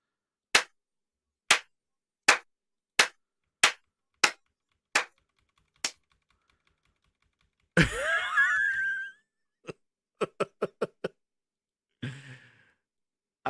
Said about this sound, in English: Let's put the clapping.